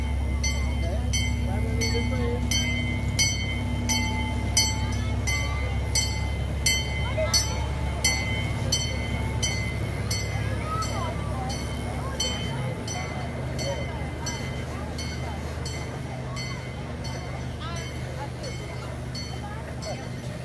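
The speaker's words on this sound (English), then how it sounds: "There's a train. We have a train that goes by." A train rumbles past near a sheep-shearing area at a fair, a steady low rolling drone with periodic clanks lasting throughout, while people talk over it.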